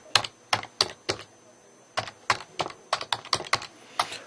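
Keys clack on a computer keyboard as a password is typed, a handful of crisp close taps, then a short pause, then a quicker run of keystrokes.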